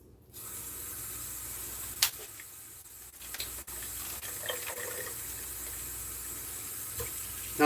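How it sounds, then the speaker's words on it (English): Cold water running from a kitchen tap to rinse cut beef, a steady close hiss of flow into the sink with a few brief clinks and knocks, no talking. "I'm going to run some cold water."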